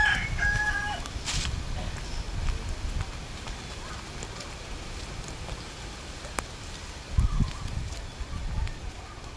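Chickens and a rooster on a rural Filipino property near a papaya grove, faint clucks and a brief crow in the distance beneath steady outdoor background noise.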